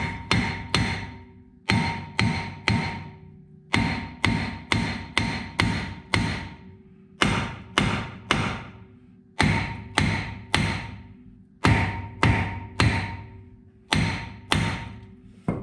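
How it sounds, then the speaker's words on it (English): Repeated hammer taps strike a Ram truck's metal wheel hub in quick bursts of three or four, each blow ringing briefly, close and loud with short pauses between groups. "we're going to take a good old hammer and we're going to give it a few taps"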